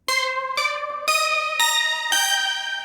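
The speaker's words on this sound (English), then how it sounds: "there's this synth that happens in the second and third choruses of the song that goes like this" A bright keyboard synth riff from a cover song's chorus plays alone, five sharp struck chords with rich harmonics at an even pulse, each ringing briefly before the next.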